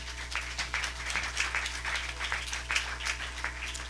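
A church congregation applauds, a steady dense patter of many hands clapping at close to middle distance over a low constant hum, with no speech.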